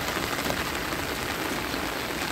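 Monsoon rain falls on a rooftop garden in a dense, even hiss of drops striking surfaces, steady and close throughout with no other sounds.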